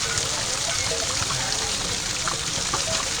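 Mountain spring water flows steadily beside the Kedarnath trekking route, a close, continuous splashing rush that stays even in loudness throughout, with no pauses.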